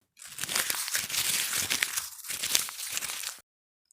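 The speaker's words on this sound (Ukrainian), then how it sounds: "Так, зминаю папір." Paper being crumpled and crinkled up close, a continuous rustling crunch lasting about three seconds, then silence.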